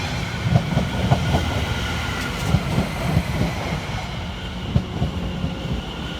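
A London Overground train from Liverpool Street to Enfield Town arrives at Seven Sisters station, wheels clattering in a loud steady rumble with periodic clicks over the rail joints.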